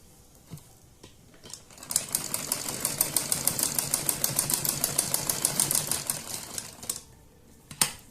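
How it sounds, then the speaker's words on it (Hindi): A sewing machine stitches a border strip onto old saree fabric in one steady rapid run of needle clatter for about five seconds, close and fairly loud, with brief handling sounds before and after. "इस तरह से इसके ऊपर भी हम सिलाई लगा देंगे"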